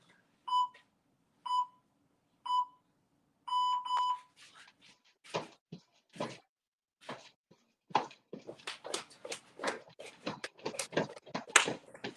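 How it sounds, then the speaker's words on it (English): Four evenly spaced electronic beeps, the last one longer, followed by scuffling movement and footsteps as activity picks up. "hopefully you can hear the timer"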